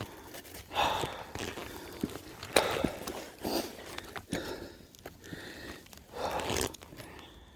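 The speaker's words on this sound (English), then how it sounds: "I'm just pushing the bike." Footsteps crunch and scuff on a slippery, rooty trail while a Lectric XP Lite electric bike is pushed along, irregular close steps with rustling and small knocks.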